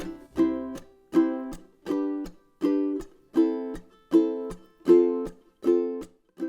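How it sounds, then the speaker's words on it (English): Ukulele strummed in a steady reggae rhythm, each bright chord stab landing off the beat with short gaps between, close and clear with no voices. "The first strumming pattern sounds like this."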